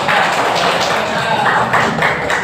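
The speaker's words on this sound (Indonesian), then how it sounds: "terima kasih Pak Nesa, tepuk tangan" A classroom of students claps together during a lesson, a close, busy patter of hand claps and light taps that carries on steadily without any speech over it.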